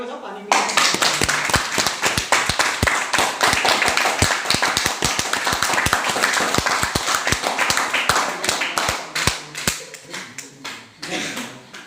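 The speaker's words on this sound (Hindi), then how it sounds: "एक बार ताली बजाओ" An audience claps together at a class talk, a dense burst of many hands that stays steady and loud for roughly ten seconds and then trails off.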